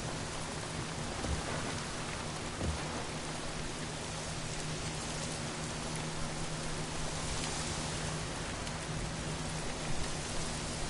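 Steady, dense rain pours in the Days Gone video game, a constant hiss of drops on surfaces with faint low rumbles and no voices throughout.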